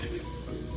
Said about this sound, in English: So you have to keep on stirring it regularly and slowly.